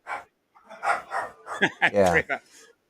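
A dog barks in short bursts during a home live stream, with several sharp, pitched yelps clustered close together near the microphone.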